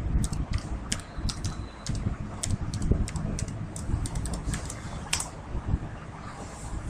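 Someone types a password on a computer keyboard, a quick run of close, sharp key clicks with uneven rhythm over low background rumble.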